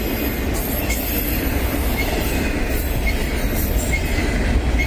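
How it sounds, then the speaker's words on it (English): Two intermodal freight trains pass each other in a loud, continuous, close rolling rumble, with high wheel squeal and faint rail clatter throughout. "One intermodal passes another intermodal."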